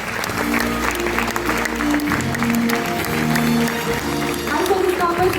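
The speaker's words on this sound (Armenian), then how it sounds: "առաջարկում եմ շատ բուռն ծափարեք իրենց կատարած անձնվեր աշխատանքի համար" A crowd at a rhythmic gymnastics awards event applauds warmly for the artistic directors, a steady wash of clapping mixed with voices and background music.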